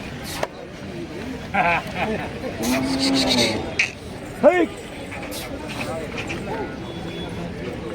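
Bulls at the Chalisgaon bull market give a brief low moo midway through, set against steady crowd chatter and general market bustle.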